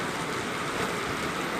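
Heavy monsoon rain pours down during a southwest-monsoon storm, a loud, dense and unbroken roar of water with no break or voices.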